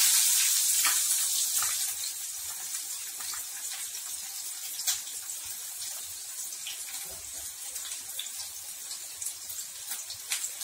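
Chopped small onions and halved green chillies frying in hot oil, a steady bright sizzle that eases slightly after the first seconds, with faint clinks and no voices.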